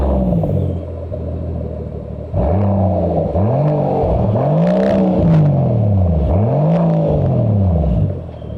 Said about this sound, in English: So how loud is our Spofec Overdose with this exhaust system?